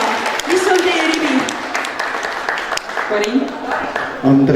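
A concert audience applauds at a Centre Party concert tour show in Haapsalu, Estonia, giving a steady ripple of clapping under a voice speaking through the sound system.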